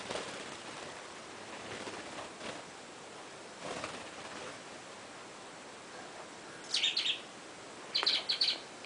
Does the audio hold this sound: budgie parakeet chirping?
yes